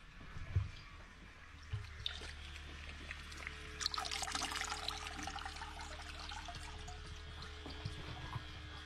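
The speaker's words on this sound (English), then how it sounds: "So when my tank needs a refill, we just simply pump the water into here." Rainwater pumped into a solar-powered aquarium tank, a faint continuous trickle and splash over a low pump hum, with a few soft knocks near the start.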